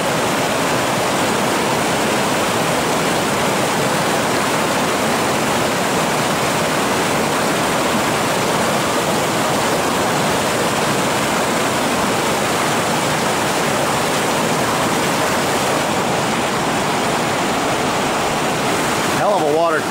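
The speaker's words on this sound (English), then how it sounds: "Hell of a water crossing here." Rushing river water roars steadily and loudly as a Jeep Rubicon makes a water crossing, a dense continuous wash of sound throughout.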